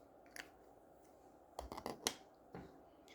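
Scissors cutting out a paper sewing pattern for a princess-dart bustier with yoke, a few quiet, close snips and crisp paper rustles, mostly in a quick cluster near the middle.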